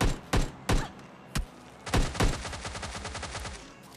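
Gunfire in the mobile battle royale game PUBG Lite: several loud, separate gunshots, then a fast burst of automatic fire that trails off. No voices are heard.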